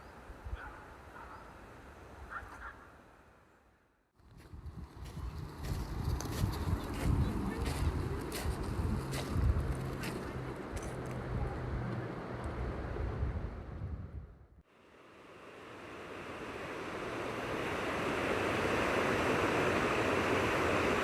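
The River Wharfe flows at Bolton Abbey, a steady broadband rush of water near the bank, briefly dropping away twice before returning at full strength, with wind touching the microphone.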